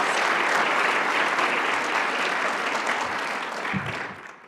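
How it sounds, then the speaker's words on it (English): Audience applause at a gala for finalist teams gathered on stage, a dense, steady wash of clapping that fades slightly toward the end. "Let's have one more round of applause for all of our finalist"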